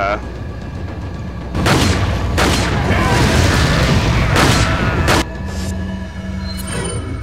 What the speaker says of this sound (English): I'm gonna use an incendiary